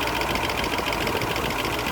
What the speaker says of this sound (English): I am irritated by these bloody tappets though.